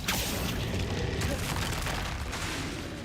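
Confringo fire-blast spell in Hogwarts Legacy, heavy booming bursts rolling continuously over dense rumbling noise for the full length, loud and close, with a voice faintly present underneath.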